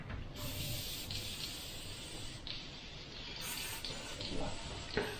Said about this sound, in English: that is not even spraying at 25 psi, that is spitting, and it's not even put the paint down